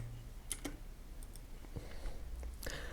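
A computer keyboard is typed on in a few sparse, quiet clicks and taps at irregular intervals over a low, hushed room background.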